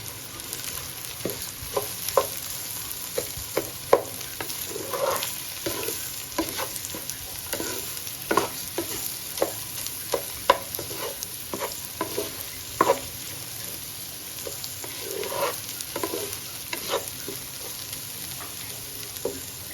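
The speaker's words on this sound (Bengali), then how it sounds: "চাল ডালটা সুন্দর ভাজা হয়ে গেছে" Rice and lentils fry with turmeric and salt in a pan, a continuous soft sizzle broken by repeated scraping stirs at a fairly even rhythm, close and moderately quiet.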